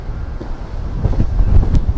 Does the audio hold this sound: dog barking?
no